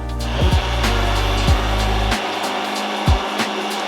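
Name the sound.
immersion blender running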